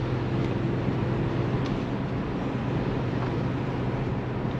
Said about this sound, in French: Ça fera peut-être un petit peu de bruit de remous de vent